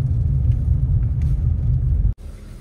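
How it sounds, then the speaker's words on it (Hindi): Tyres on an interlocking brick road heard from inside a Tata Nexon iCNG cabin: a steady, loud, low rumble that fills the clip, then cuts off abruptly near the end, leaving a quieter hum. "हाँ रोड टायर की वजह से आ रही है, रोड थोड़ा सा वैसा है"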